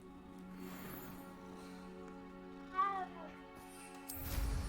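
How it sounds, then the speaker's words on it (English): A cat in an abandoned cottage gives one short, rising-and-falling meow, fairly faint against a low mechanical hum, followed by a rustling burst. "It's a kitty cat."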